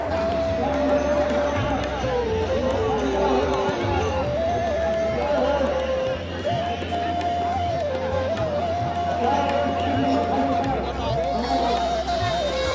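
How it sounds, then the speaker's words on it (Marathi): A dense crowd of pilgrims at the Ashadhi wari in Pandharpur gives off continuous babble and shuffling footsteps, with a tonal chant or instrument line rising and falling above the steady hubbub. "तुम्हाला दाखवतो गर्दी काय असते."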